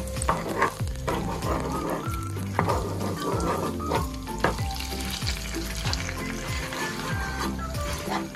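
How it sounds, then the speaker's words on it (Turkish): Tomato paste frying in melted fat, with a loud steady sizzle and repeated scraping strokes as it is stirred around the pan, and no voices. "Sos kıvamına gelinceye kadar salçamızı kavuracağız."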